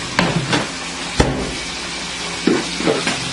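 Fork and kitchen knife scraping and chopping chicken in a frying pan during penne alla vodka prep, with a few sharp clacks against the pan over a steady close sizzle.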